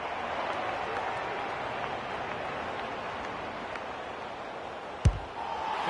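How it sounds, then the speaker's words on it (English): A broad roar of a video game stadium crowd in AFL 26, at a Geelong Cats match, rises and holds throughout, with a single sharp thud near the end. "The crowd noise tells you all you need to know."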